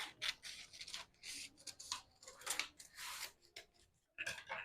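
Scissors cutting through a paper garment pattern while drafting a suit, a series of close crisp snipping and sliding cuts in uneven bursts with short pauses, no talk.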